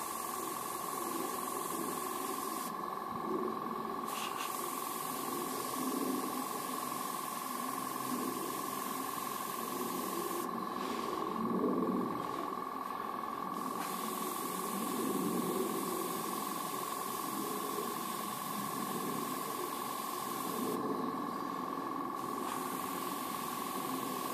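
An airbrush sprays paint onto a scale model as a steady, continuous hiss. It sits alongside a constant tonal hum, probably from the compressor, and runs for the whole stretch with brief dips where the spray pauses. No one speaks.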